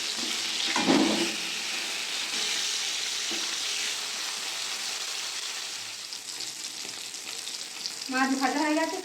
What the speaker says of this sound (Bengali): তেলটা গরম হয়ে গেছে, মাছগুলো একটা একটা করে দিয়ে ভেজে নেব।